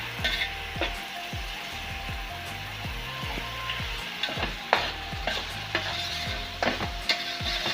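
Andhra-style fish curry masala sizzles in a pan as tomato juice is stirred in, with repeated rhythmic scrapes and knocks of a spoon over a steady frying hiss, close up and with no voices.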